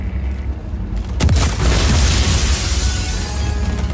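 A console screen in Just Cause 4 is shot up and explodes: a loud, close boom bursts out at about one second and rolls into a sustained, roaring explosion with crackling debris that lasts to the end.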